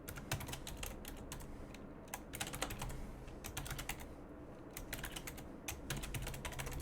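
Typing on a computer keyboard while writing C# code, rapid irregular bursts of clicking keystrokes with brief pauses between runs, close and steady with no talking.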